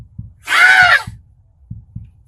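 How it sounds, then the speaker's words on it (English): A woman lets out one loud, drawn-out scream lasting about half a second, with soft thumps ticking before and after it. "What are you screaming for?"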